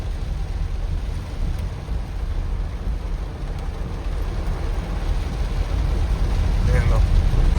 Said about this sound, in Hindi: ये देखो कितनी बारिश, कितनी ज्यादा बारिश होने लग गई है